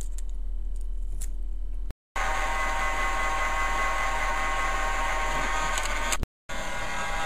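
A heat gun shrinks sleeving onto a Molex 4-pin extension cable, giving a loud, steady, close blowing roar that cuts out twice, briefly, with no talking.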